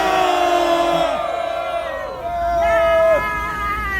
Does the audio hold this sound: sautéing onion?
no